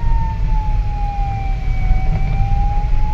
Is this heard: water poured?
no